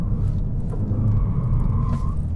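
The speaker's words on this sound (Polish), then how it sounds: "Jeszcze ten cały wydech, który w ogóle dopełnia mi jeszcze tego uśmiechu." Ford Focus ST hot hatch, facelift Performance Track Pack 2023, exhaust drones low and steady while driving, a continuous close rumble heard from inside the cabin with no talk.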